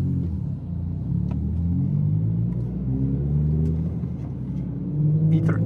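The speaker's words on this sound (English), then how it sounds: "The car went vroom." A Ford Mondeo MK3 engine rumbles steadily from inside the car during a casual drive, with a low droning note that swells slightly as it revs near the end.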